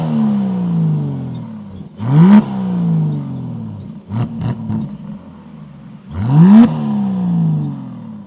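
A 2025 Aston Martin Vanquish engine revs hard twice close by, each blip sweeping sharply upward and falling back, with a few quicker throttle stabs between them over a steady idle rumble.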